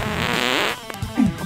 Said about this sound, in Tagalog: Sunog na utot!